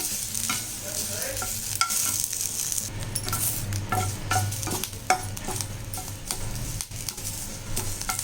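Curry leaves roasting over high heat in a pan for rasam powder, a steady frying crackle with a low rumble beneath and repeated scraping, ticking stirs of a spoon throughout, no voices.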